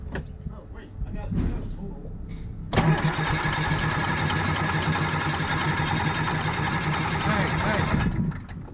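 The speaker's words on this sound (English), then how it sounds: "Keep turning the motor over. It might take a while to prime." A small engine on a Kubota U55 mini excavator site cranks briefly, then catches and settles into a steady, loud running drone that holds for several seconds before cutting out, with voices talking beforehand.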